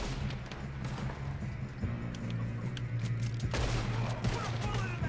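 Dense, rapid bursts of video game gunfire crackle continuously over a low rumbling background, with a louder volley near the end.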